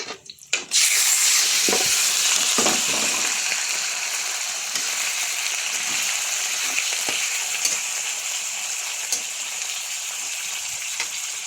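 Pork for adobo drops into a hot pan and settles into a loud, steady sizzle of frying that holds for several seconds, with occasional clicks and scrapes of stirring.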